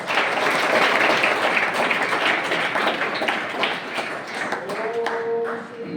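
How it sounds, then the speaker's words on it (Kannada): An audience at a religious birthday celebration at a Bhalki math claps together to open the programme, a dense sustained burst of applause that gradually thins, with a faint voice starting to chant near the end. "ಎಲ್ಲರೂ ಚಪ್ಪಾಳೆ ತಟ್ಟಿ ಈ ಕಾರ್ಯಕ್ರಮಕ್ಕೆ ಚಾಲನೆ ಕೊಡಬೇಕು"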